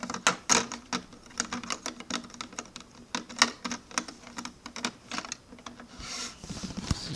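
Plastic pieces of a Lego City crooks island set clatter as a lever mechanism is pushed, giving a busy run of sharp, close clicks and ratcheting snaps at an uneven rhythm, with no talking.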